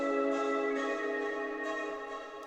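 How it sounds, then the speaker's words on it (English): A sustained ambient vocal sample in Studio One forms a dense, steady harmonic pad, loud and continuous throughout, and fades slightly toward the end. "Next one, I have some vocals sound like this."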